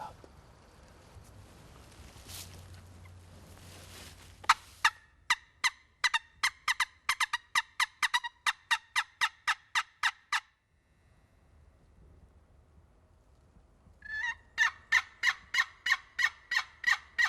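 A wild gobbler answers repeatedly during a spring turkey hunt, sending out long runs of loud, sharp gobbles in quick succession. A quieter low rumble comes first, then the gobbling breaks off briefly and starts again near the end.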